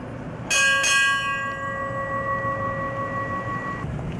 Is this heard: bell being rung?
yes